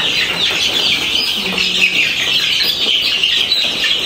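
A crowd of chicks chirps in a dense, continuous high-pitched chorus while being packed into a small box for a long journey, loud and close with no pauses.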